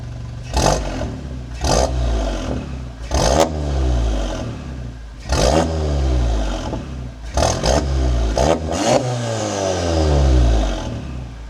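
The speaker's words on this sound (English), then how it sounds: "Want to hear some revs?" An Audi engine with a downpipe tune revs hard in a string of sharp bursts, each climbing and falling back, with one longer sustained rev near the end; loud and close, with no talking over it.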